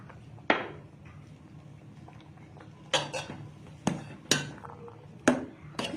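Rice flour is worked into sweet pumpkin in a bowl, heard as a few sharp clinks and knocks of a utensil against the dish between quiet scraping, spaced irregularly and fairly close.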